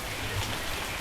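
Steady rain falls through a forest in Taman Negara, a dense, even hiss of drops on leaves and surfaces filling the whole moment with no pauses.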